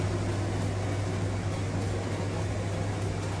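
A steady, low whooshing hum from an Arçelik glass built-in cooker hood fan on first speed runs at an even level throughout, with a faint tonal drone underneath and no talking.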